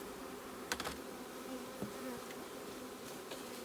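Honey bees from a package being installed onto drawn comb in a hive, a steady close buzzing drone that runs throughout, with a few faint knocks and taps.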